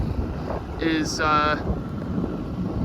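Wind blows across a sailboat at sea in the southwest breeze, a steady low rush of microphone buffeting that carries on throughout while a person talks briefly near the start.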